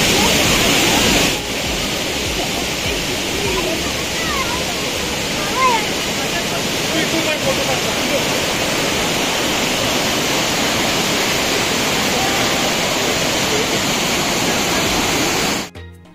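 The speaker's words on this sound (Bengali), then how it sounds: "আওয়াজটা শোনা যাচ্ছে ঝর্ণার" Kanchenjunga waterfall near Pelling in West Sikkim, a loud continuous rushing roar heard from nearby, steady throughout before cutting off at the end.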